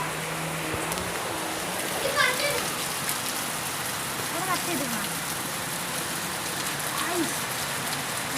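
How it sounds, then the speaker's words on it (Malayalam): Heavy rain in Kerala falls steadily as a dense, even hiss across the whole stretch, with faint voices and brief children's sounds in the background. "നല്ല മഴ"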